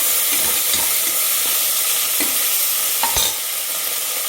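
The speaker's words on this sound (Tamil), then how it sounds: "இஞ்சி பூண்டு பேஸ்ட் இதை போட்டுக்கோங்க. போட்டுட்டு நல்லா வதங்க" Ginger garlic paste sautéing in a hot pan for biryani, a steady close sizzle with scraping stirs throughout and a sharper clack of a spoon near the end, no voices.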